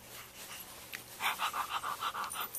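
A young child imitates a dog panting, a quick rhythmic string of breathy huffs, close and fairly clear after a quiet start.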